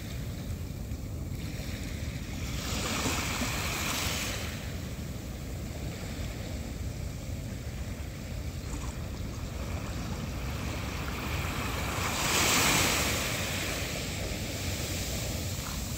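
Ocean waves wash in a continuous broadband roar, rising into two louder swells and fading back, with wind noise mixed in and no voices.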